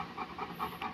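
A large dog panting close by, quick rhythmic huffing breaths at an even pace, about five pants in a second, soft and alone.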